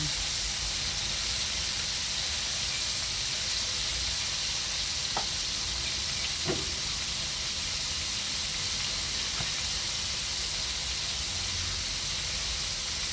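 Chicken drumsticks and tilapia coated in batter fry in hot oil, giving a steady, even sizzle and hiss throughout with a few faint clicks and pops, and no talking.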